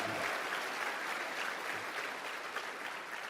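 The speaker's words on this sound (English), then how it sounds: "Give her a round of applause." Steady applause from a crowd, dense clapping that holds evenly for a few seconds without voices.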